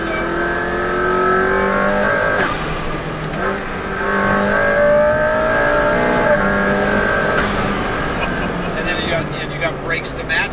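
A McLaren P1 hypercar accelerates under throttle, its engine note rising in steady sweeps and pulling hard for several seconds, loud and close, with a voice speaking over the engine at times.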